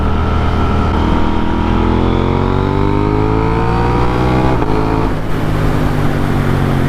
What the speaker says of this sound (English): These second gear power wheelies, man, this bike will do it no problem.